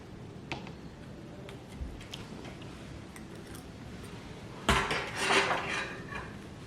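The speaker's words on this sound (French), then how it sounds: "Avec le couteau, avec la fourchette." Knife and fork clink and scrape on a plate while bread is eaten, with scattered light ticks, then a louder burst of cutlery clatter near the end, close by with no talking.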